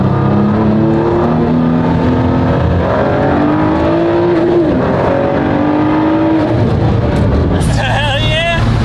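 Sports car engine revving and accelerating hard during a street race, loud and close with rising engine tones throughout, and a voice speaking near the end.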